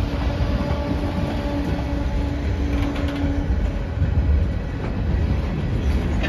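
A CSX freight train rolls into a rail yard in Framingham, Massachusetts, its steady rumble continuous and fairly loud throughout, with a faint tonal squeal or horn-like hum early on.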